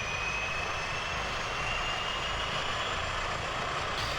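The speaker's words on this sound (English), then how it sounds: "So we'll go ahead and start the plane with I." Engines of a Super Scooper firefighting plane start up in the EmergeNYC video game and run with a continuous loud droning roar, steady and broadband, with no voices over it.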